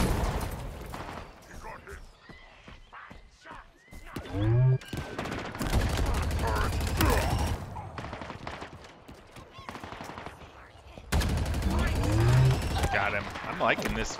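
A plasma cannon fires in Halo Infinite, sounding as loud bursts of rapid shots in two long volleys, with quieter gaps and shorter pops between them.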